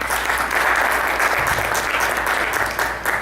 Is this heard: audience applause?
yes